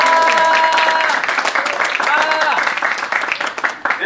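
An audience applauds at the opening ceremony of the 4th Korea International Forum, dense and loud clapping under a voice that carries on over it before the clapping thins out toward the end.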